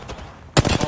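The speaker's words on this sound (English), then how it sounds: "we're getting shot in the back" Gunfire in Apex Legends, starting abruptly halfway through as a loud burst of rapid shots following a quieter stretch of game ambience.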